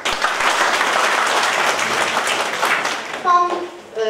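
Audience applause at a seniors' club ball in Drelów, Poland, with a full crowd clapping steadily for about three seconds before it fades and a voice starts speaking over the tail end.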